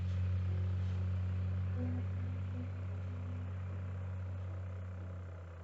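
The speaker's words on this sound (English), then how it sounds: "with that truck passing by, it was so loud" A truck passing by loudly outdoors, a heavy low engine rumble that fills the clip and slowly fades as it moves away, with no talk over it.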